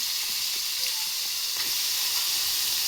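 Tomatoes go into onions frying in a pan for a bendekayi (okra) palya, a steady soft sizzle and hiss with a few faint stirring taps beneath.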